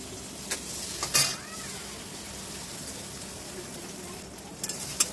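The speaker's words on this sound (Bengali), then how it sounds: "ডিম দিয়ে একটু ভালোভাবে নেড়ে চেড়ে ভেজে নিতে হবে" Egg stir-fried in a pan for egg fried rice, a faint steady sizzle with a few short scraping clinks of a spatula against the pan.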